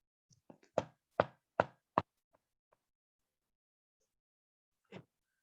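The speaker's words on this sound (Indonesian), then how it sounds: "sayup-sayup terdengar suara ketukan pintu rumah." Knocking on a house door: a few faint taps lead into four loud, evenly spaced knocks, then a couple of soft taps and, after a pause, one more isolated knock, with silence in between.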